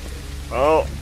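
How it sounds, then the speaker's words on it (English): Rain in a zombie survival video game makes a steady, soft hiss, with a brief tonal swell rising over it midway. "But now I just gotta find rocks, and it's raining."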